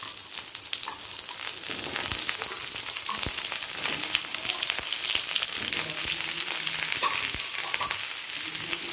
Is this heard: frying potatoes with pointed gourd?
yes